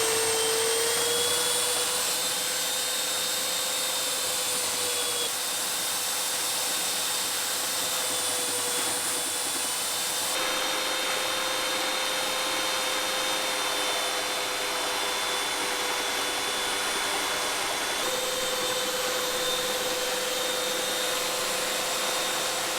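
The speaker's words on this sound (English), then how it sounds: "First we're going to sand tip and tail, smooth them out, bring out that nice pintail that we want." A power sander works the tip and tail of a handmade ski in a workshop. It gives a steady, loud whine that holds for over twenty seconds with slight shifts in pitch, and no one talks.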